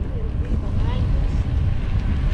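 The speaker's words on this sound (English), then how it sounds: "Probably can't hear nothing but the wind now" Gusty wind roars across the microphone during a bike ride on a Lower Florida Keys trail, a steady loud low rumble with a voice faintly audible underneath.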